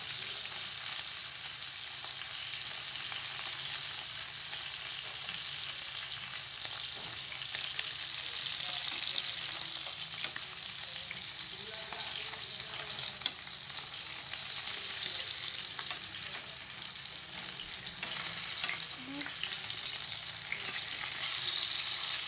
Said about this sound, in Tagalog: Yan, luto ng ating prito.